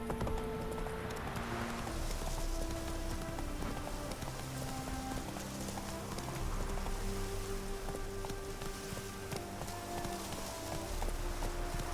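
Horse hooves clip-clop at a steady trot in The Witcher 3, mixed into a busy game soundscape with music and ambient noise.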